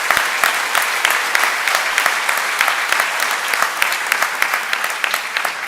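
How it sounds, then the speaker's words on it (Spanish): Steady applause from a large audience at a congress closing, dense clapping filling the room evenly with a few sharper claps standing out, mostly without talk. "Un aplauso para todas esas personas que están ahí presentes."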